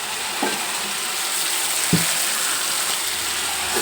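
Eggplant frying in a pan along with potato curry, a steady close sizzle with a few soft clinks of stirring and no talk.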